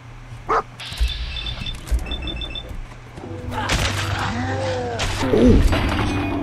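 A dog barks in Fallout 4 gameplay, a few sharp barks over beeping game sounds, mechanical effects and steady background noise, with a busier stretch of game audio later.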